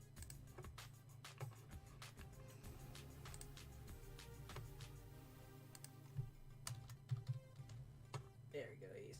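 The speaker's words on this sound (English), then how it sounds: "he's typing now" Rapid irregular clicking of a computer keyboard being typed on, quiet and close, continuing steadily with a few louder taps, while people talk faintly in the background.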